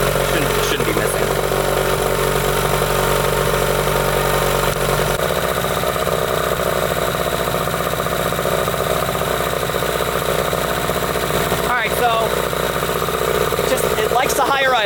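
A 1998 Johnson 15hp outboard motor runs at a high idle, a loud, steady close-up engine drone that holds throughout with a slight shift in tone midway and no clear talk.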